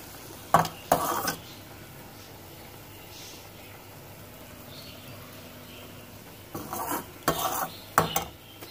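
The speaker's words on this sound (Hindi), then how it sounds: "फिर हम इसको हिलाएंगे।" Chicken being stirred in a pot, bursts of spoon scraping and clatter at the start and again near the end, with a quiet low sizzle in between.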